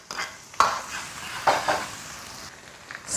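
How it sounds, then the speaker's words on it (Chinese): Dried green Sichuan pepper, ginger, scallion and garlic stir-fried in hot oil in a wok: steady close sizzle with a few sharp bursts of spatula stirring, no voices. "下干的青花椒爆锅，姜葱蒜末"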